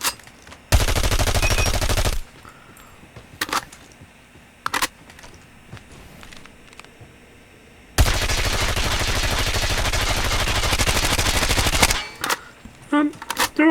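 The RUS-79U rifle fires in full-auto bursts during ranked video game play, two long, loud sustained volleys separated by short single shots and quieter game sounds in between.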